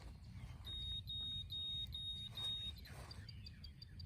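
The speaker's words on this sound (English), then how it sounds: "That little beep, beep, beep, that is the actual shock right there." An invisible dog fence collar gives a rapid series of faint, high electronic beeps in short repeated bursts at a yard boundary, heard near and alone over low background noise.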